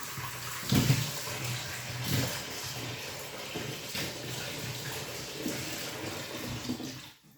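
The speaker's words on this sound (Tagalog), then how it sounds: "Hugasan natin ulit mga lalap." Vegetables being washed by hand in water, a soft continuous sloshing and splashing with a few louder splashes near the start, close by and with no talking.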